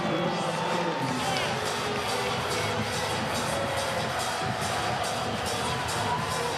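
A volleyball arena crowd roars in sustained disapproval after an out-of-bounds call at an NCAA women's regional final, dense shouting and whoops filling the space, with a brief low thump near the start.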